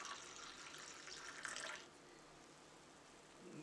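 Water pours steadily into a quarter cup of Mauby concentrate, a soft continuous splashing and trickle that stops partway through, leaving quiet room tone, with no talk over it.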